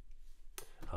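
A computer mouse gives two quick, faint clicks in close succession, over a quiet room hum with a voice starting just after.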